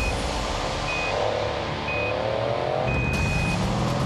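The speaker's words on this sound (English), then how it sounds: "Ooh, bit of wheel spin." Car launching from a standstill in standard road mode with traction control on, a brief tire-spin squeal rising over steady engine and road noise, with an intermittent beeping tone in the background.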